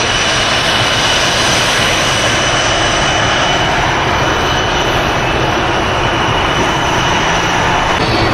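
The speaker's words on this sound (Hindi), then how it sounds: "ये खड़ा हुआ हमारा जहाज़।" A parked Yeti Airlines passenger plane's engine roars steadily on the apron at Kathmandu airport, a loud, constant whine and rumble filling the whole stretch without a break.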